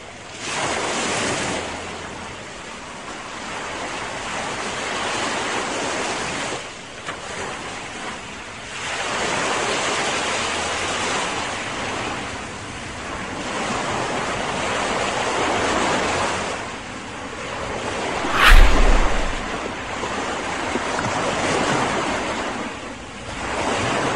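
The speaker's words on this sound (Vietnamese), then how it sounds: "Đứng trước biển rộng trời cao, trước cái sâu thâm thẳm và rộng mênh mông" Sea waves roll onto the shore at My Khe beach in Da Nang, with broad crashes swelling and receding every few seconds under steady wind noise and no voices.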